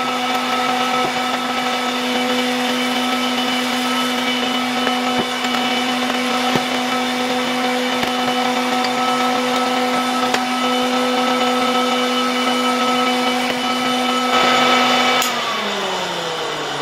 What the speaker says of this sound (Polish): bierzemy się teraz za wyczyszczenie tego ręcznego odkurzaczyka Omega